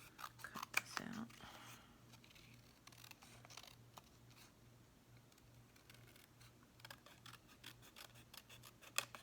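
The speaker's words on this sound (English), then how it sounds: "Let's cut this out." Scissors snip through paper or card for a spring craft project, a few soft close cuts with light handling rustle, very faint overall.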